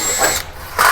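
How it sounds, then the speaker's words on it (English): Power drill boring a pilot hole in sheet metal, a loud close whine that dips briefly as the bit catches, then surges back to full speed; no voices. "I'm going to drill a hole where I want the die to go."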